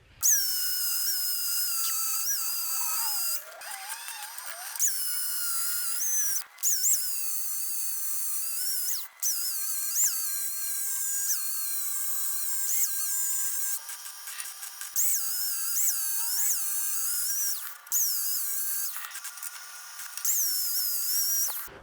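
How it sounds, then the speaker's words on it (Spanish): A power tool grinds and polishes the welded joints of a metal window grille, a loud, high whining scream that holds for long stretches, shifts in pitch under load and breaks off briefly a few times. "Vamos a pulir todas las uniones y nos vamos a asegurar de que esto quede liso."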